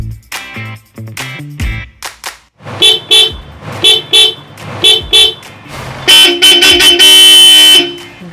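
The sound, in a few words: two Bosch car horns honking after installation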